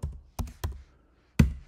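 Four sharp, separate keystrokes on a computer keyboard while code is typed, close and clear, with short silent gaps between the taps and no speech.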